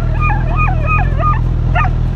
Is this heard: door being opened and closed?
no